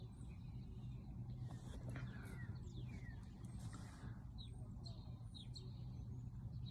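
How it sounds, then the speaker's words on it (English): Several birds chirp and tweet in short, scattered calls outdoors, faint over a steady low rumble of road traffic. "So as I'm listening to the birds,"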